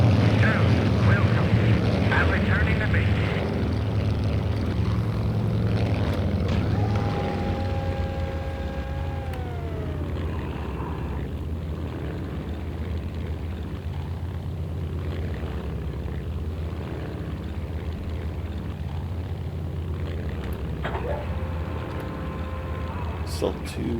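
An aircraft in flight returning to base makes a steady engine drone throughout, with brief electronic tones and what sounds like voices over it.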